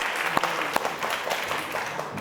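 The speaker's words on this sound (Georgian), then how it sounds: "აპლოდისმენტები მარიამს" A studio audience at a student quiz show claps for a contestant in a brief, dense burst of applause with a few sharper claps standing out.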